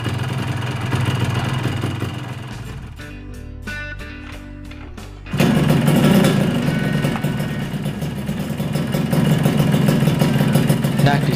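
A Yamaha RX King two-stroke motorcycle engine with worn piston rings runs close and loud with a rough, uneven idle. Its tone shifts midway, then it settles into a harsher, stronger drone.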